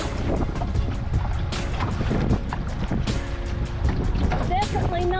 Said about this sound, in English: it seems like the wind is picking up a bit